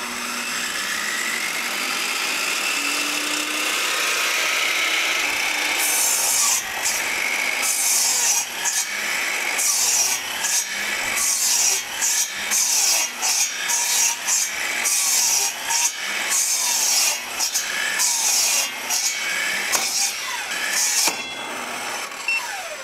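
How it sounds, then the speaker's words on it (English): Miter saw cutting wood, powered from a portable power station: a long, harsh rasping whine with the blade catching in repeated choppy bursts through the second half, close and steady. "that was the sound of the wood catching on the miter saw."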